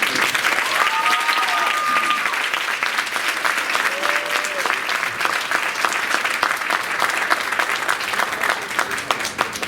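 An audience at a middle school oratorical contest claps loudly and continuously, a dense sustained round with a few voices and whoops mixed in.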